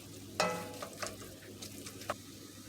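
Hamburger meat fries and sizzles in sauce in a pan while being broken up. Soft scraping stirs and a few sharp scrapes cut through a low, quiet sizzle.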